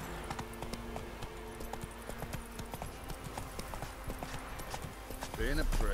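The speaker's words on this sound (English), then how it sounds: "Damn slow horse." Hooves of a slow horse in The Witcher 3: Wild Hunt clop in a steady rhythm over ambient game sound, with a brief louder burst near the end; a player talks over it.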